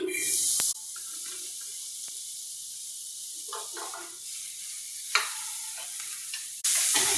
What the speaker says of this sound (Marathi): कांदा चांगला लाल होईपर्यंत भाजून घेते.